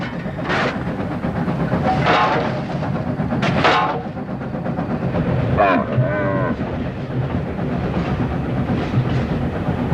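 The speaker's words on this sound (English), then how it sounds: "The train passes through the desert on the way to the Tian Shan Mountains" A train rumbles steadily through desert on the way to the Tian Shan Mountains, carrying camels, with a loud continuous clatter of wagons and several sharp squeals or animal-like calls rising above it, with no voices.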